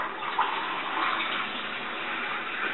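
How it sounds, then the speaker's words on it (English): Water poured steadily into a jug to dilute summer fruit juice for ice lollies, a continuous close splashing rush that holds at an even, moderate level throughout. "I'm going to add some water"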